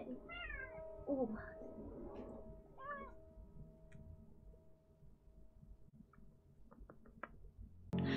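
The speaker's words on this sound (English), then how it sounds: "Do you hear Duncan meowing?" Pet cat Duncan meows several times in quick succession up close, rising and falling calls in the first few seconds, followed by faint pattering and small clicks in a quiet room.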